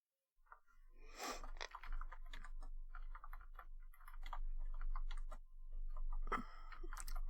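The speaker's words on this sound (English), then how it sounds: "I feel like I'm typing too much." Rapid typing on a computer keyboard during a cyber security study session, a close stream of irregular key clicks with a few louder bursts and brief pauses.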